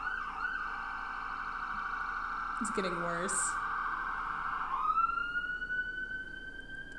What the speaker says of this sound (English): The ambulance do take their time out here.